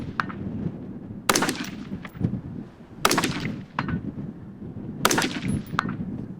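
Rifle shots fired at steel targets on an outdoor range, with three loud, sharp cracks spaced a couple of seconds apart, each followed by a short ringing tail and quieter clatter between, close and without talk.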